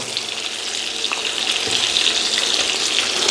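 Carrots frying in a pan give a continuous, close crackle and sizzle at moderate loudness, with faint stirring movements underneath.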